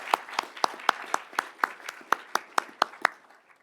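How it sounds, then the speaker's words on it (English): Small audience at a board meeting claps in a thin, evenly spaced patter, roughly a dozen distinct claps over a few seconds that fade toward the end. "can we give another round of applause for these folks giving up their time to do that?"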